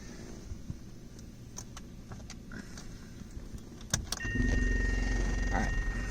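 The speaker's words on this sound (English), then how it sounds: "So I'm gonna put the key in." Near, small metallic clicks and a key jingle sound as the key goes into the ignition of a 1982 Mazda RX7, then a steady electrical hum and low rumble set in.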